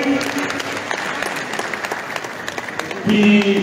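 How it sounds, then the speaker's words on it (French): Warm applause from an audience at a Miss Dary pageant ceremony during Festival Dary 2023, a steady dense wash of clapping that swells louder near the end, with a voice briefly audible over it. "je demande qu'on applaudisse très très chaleureusement pour lui"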